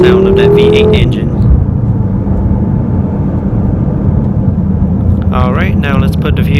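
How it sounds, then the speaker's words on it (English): A 2015 BMW M6 Gran Coupe's V8 engine drones loudly while driving, a revving climb at the start and another surge of rising revs near the end. "Love the sound of that V8 engine."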